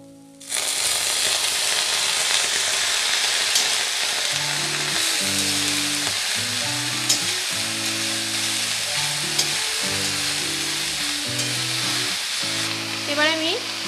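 Washed pea greens hit a pan that already holds fried potato and eggplant, giving a loud, steady sizzle and crackle that runs throughout, broken by occasional stirring scrapes.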